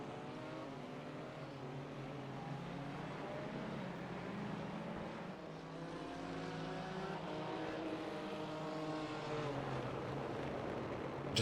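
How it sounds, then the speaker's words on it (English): GT3 race car engines in the iRacing racing game at the Nurburgring, a continuous engine whine with rising and falling revs as the cars pass, steady and fairly faint, with no talk. "Just listening to the noises of the cars, it's quite nice."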